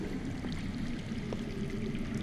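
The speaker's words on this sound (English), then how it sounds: "I hear water. From underground." Soft, steady rush of water flowing underground in a Game of Thrones video game, a faint continuous stream with a low ambient hum and no voices.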